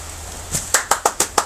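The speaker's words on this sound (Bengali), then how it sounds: "হাতে তালি দেন" A short burst of hand clapping, five or six sharp, evenly spaced claps in quick succession after a brief quiet start, close and fairly loud.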